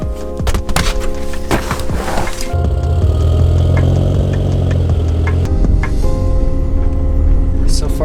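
A BMW E36 drift build with a freshly welded differential starts off on its first test drive; a few thunks and clicks give way to a loud, steady engine drone close by, with brief talking early on.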